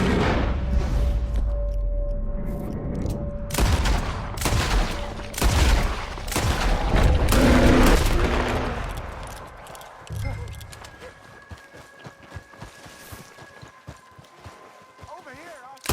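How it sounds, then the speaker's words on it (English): Repeated gunshots in Red Dead Redemption 2, a run of loud close bangs in the first half alongside galloping hooves, then quieter ambience with voices talking. "Why are you shooting at thin air?"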